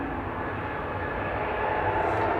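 Loganair ATR 42-500 G-LMRD from Inverness touching down at Manchester Airport, a steady, fairly loud turboprop roar with a low drone, brief and continuous.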